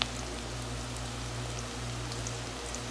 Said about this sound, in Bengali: এবার ভালো করে আমরা মশলাটা কষিয়ে নেব, পেঁয়াজটা হালকা ভেজে নেব